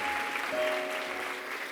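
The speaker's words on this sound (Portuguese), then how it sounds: "Você pode aplaudir ao Senhor?" A church congregation applauds in worship, an even wash of many hands clapping at moderate loudness, with faint sustained tones running underneath.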